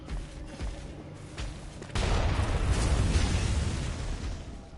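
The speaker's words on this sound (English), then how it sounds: "Kinda don't want to see what a cannon's gonna do to me though." A cannon fires in the video game Bloodborne, a loud, sustained roaring blast that swells suddenly and rumbles on beneath faint background game noise.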